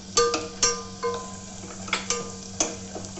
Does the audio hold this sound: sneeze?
no